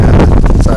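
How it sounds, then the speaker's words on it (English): Strong outdoor wind buffets a microphone with a loud, constant low rumble, mixed with faint voice sounds. "Sorry, it's a little windy."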